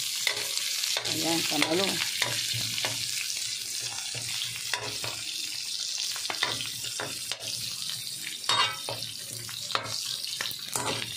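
Garlic and onion sautéing in a pan for gatang papaya, a steady close sizzle with scraping stir strokes throughout and a short spoken phrase near the start.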